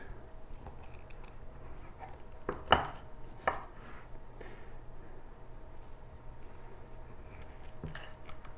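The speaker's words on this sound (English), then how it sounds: "I'm gonna cut myself just a little bitty slice" A knife cuts a small slice of pumpkin pie, giving a few faint clinks and taps of blade against dish, with two sharper contacts close together in an otherwise quiet, hushed room.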